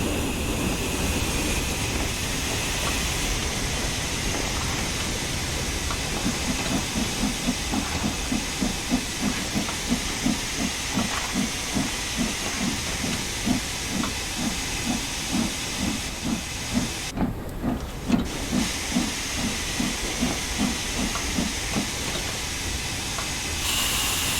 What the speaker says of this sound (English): Close the regulator and gently apply the combination brake to bring the train to a stop at our destination.